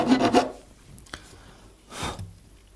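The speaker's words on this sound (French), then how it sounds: "on va venir limer donc le dessus de la frette jusqu'à ce que l'arrondi soit refait" A metal file rasps across the top of a guitar fret on an SG Junior, smoothing its rounded crown: a burst of gritty strokes at the start, a small tick, then one more short rub, close and fairly quiet.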